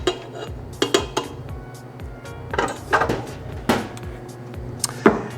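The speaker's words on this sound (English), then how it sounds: "So we'll turn the stand mixer off, drop the base, pull the paddle." Stand mixer being shut off, its bowl base lowered and the paddle pulled out while making meatball mix: a run of sharp metallic clanks, knocks and scrapes of bowl and paddle, close and uneven.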